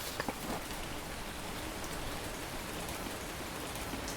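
Rain pouring down steadily in a survival video game, a dense, even hiss of falling drops with no breaks, heard alone at a soft level.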